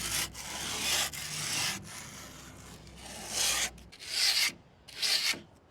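Sandpaper rubbed along the wooden edge of a skateboard deck, close rasping strokes in an uneven rhythm, several swelling passes with short pauses between, no talking.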